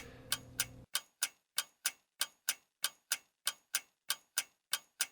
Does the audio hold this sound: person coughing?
no